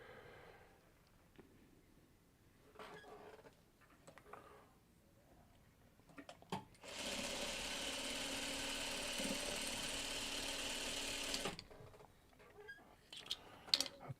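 A sewing machine stitching a quilt basket block runs as one steady, even mechanical whir for about five seconds in the middle, close and fairly loud, with quiet handling sounds before and after.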